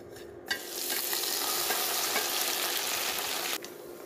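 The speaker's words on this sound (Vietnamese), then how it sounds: "Giờ mình cho sườn và mình chiên nha" Pork ribs dropped into hot oil in a pan, bursting into a loud, steady sizzle that holds for about three seconds before easing, with no talking.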